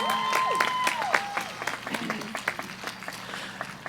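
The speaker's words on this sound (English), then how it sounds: "Let's clap it up, folks." Graduation commencement audience applauding for the Class of 2021, a steady wash of clapping with some sharper individual claps, fairly loud and sustained throughout, with a few brief tonal whistles or cheers at the start.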